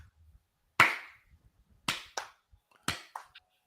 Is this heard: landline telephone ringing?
no